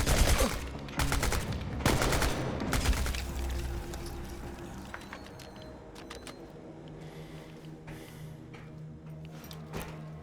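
Gunfire in the game Chernobylite: several sharp, loud bursts of shots crack out close in the opening seconds, then fade to sparser distant cracks over a humming, ringing backdrop.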